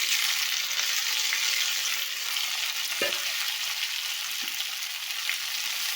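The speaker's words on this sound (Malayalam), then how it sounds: "ഉള്ളി നല്ലപോലെ വഴണ്ട് വന്നതിലേക്ക് നമ്മൾ അരിഞ്ഞ് വെച്ചിരിക്കുന്ന തക്കാളി ഇട്ട് കൊടുക്കാം" Chopped tomato sautéing with softened onions in a pan for a curry, a steady close sizzle with a couple of light knocks from stirring.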